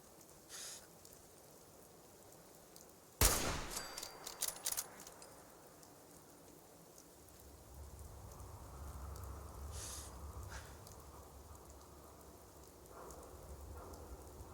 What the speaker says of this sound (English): This rain might help damper a little bit.